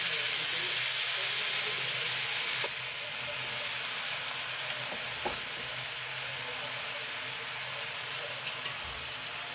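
Softened carabao meat goes into a pan for a creamy coconut-milk stew and is stirred, giving a steady, close sizzling hiss with light scraping and a soft shift partway through.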